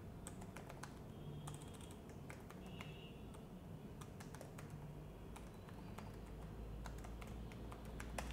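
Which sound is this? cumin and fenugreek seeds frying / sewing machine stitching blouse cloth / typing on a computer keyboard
typing on a computer keyboard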